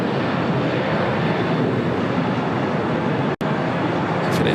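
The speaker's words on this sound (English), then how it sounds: "heading down to 25 right. Is that an A321neo?" An Airbus A321neo airliner comes in to land on runway 25 right at LAX, a steady broadband jet roar held at an even level throughout, with a brief dropout near the end.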